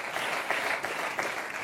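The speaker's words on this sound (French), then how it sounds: "J'applaudis, franchement." Brief, steady audience applause at a comedy show, fairly soft and even, with no talking over it.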